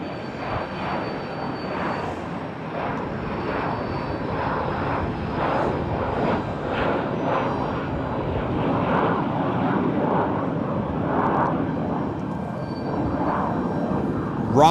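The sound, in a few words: Falcon business jet taking off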